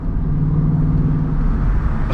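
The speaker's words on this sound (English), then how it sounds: "I can hear the fucking downshift." A car with its muffler deleted rumbles loud and close with a deep, steady engine drone, the exhaust note holding low and throaty through the brief stretch as the car downshifts, with no talking.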